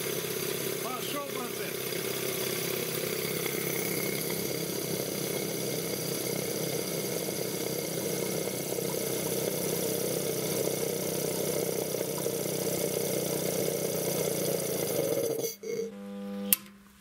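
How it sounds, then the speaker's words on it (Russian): A steady mechanical hum of an electric motor running a ZIL-130 truck air compressor in a garage drones evenly for a long stretch, then cuts off abruptly near the end. "сейчас теоретически должны подняться обороты на компрессоре"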